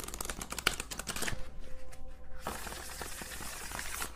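Rapid papery riffling and soft card slaps as tarot cards are shuffled, close and fairly quiet, with a brief pause in the middle before the shuffling resumes.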